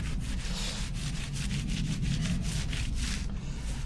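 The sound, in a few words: polishing a Harley motorcycle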